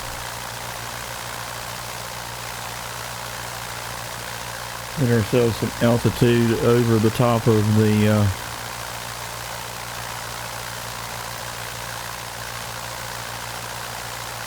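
An aircraft engine drones steadily through the climb-out in Microsoft Flight Simulator, a constant low hum that continues under someone speaking briefly partway through.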